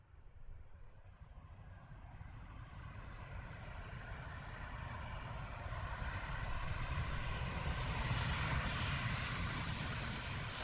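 In the Infinite Flight game, an aircraft taxis off the runway with a steady engine drone and whine that slowly swells louder, continuous and without talk.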